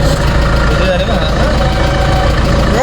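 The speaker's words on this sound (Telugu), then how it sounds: "ఇక్కడ నుంచి జామ్, ట్రాఫిక్ జామ్." Vehicles idle in a traffic jam near Kainchi Dham, with a low, continuous engine rumble close by and faint voices in the background.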